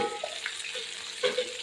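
Cauliflower pieces coated in spicy masala fry in hot coconut oil, giving a steady close sizzle with faint stirring and scraping, with no voices.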